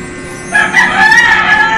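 A rooster crows loudly in one long, strained cock-a-doodle-doo that rises over a steady background of music and hiss.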